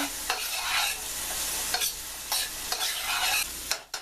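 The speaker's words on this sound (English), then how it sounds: "Now I'm going to go ahead and add the onions to the skillet now that it's heated up, and get them all coated with oil." Onions frying in olive oil in a heated skillet while being stirred, giving a loud, close, continuous sizzle with repeated rough scraping sweeps of a utensil across the pan.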